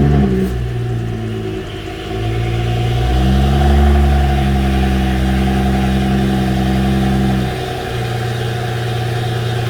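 A BMW N55 engine cranks, starts and settles into a steady, loud idle after a PCV valve replacement, with a low continuous rumble that swells briefly after the start before easing back.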